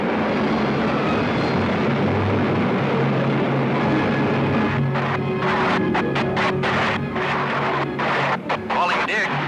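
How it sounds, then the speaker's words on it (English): A roaring jet aircraft engine sound effect from a 1953 serial drones steadily and loudly. Halfway through it breaks into choppy, sputtering bursts under faint voices. "Calling Dick. My jet's out. I'm falling."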